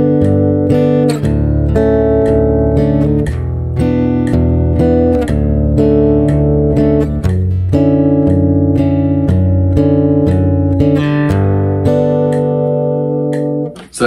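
Fingerpicked guitar moves steadily through the chords of a song at a slow, even tempo, each pluck ringing out clearly, with no voices.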